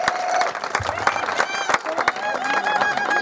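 Audience at a children's show performance applauding and cheering with sharp scattered claps, children's voices calling out over the crowd noise.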